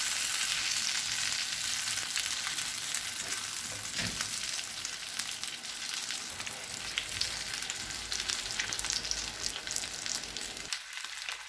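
Chicken pieces for chicken mandi fry in hot oil in a pan, giving a loud, continuous close sizzle with crackling bursts and occasional stirring, and no talk.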